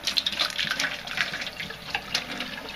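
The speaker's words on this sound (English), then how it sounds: "pour the hot water out" Hot water poured out of a container while cleaning a cartomizer, a steady close splashing and trickling stream lasting throughout, with no talk.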